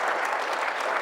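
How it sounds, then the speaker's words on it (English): A room full of people gives a brief burst of steady applause for a mayor at a Sport Manitoba logo event, the dense clapping moderately loud and even throughout. "So a round of applause for the mayor."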